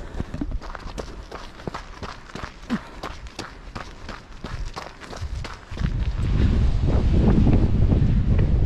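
Gusty wind buffets the microphone during a long-distance relay run, first under rhythmic running footsteps, then swelling into a loud, steady roar of wind noise in the final seconds.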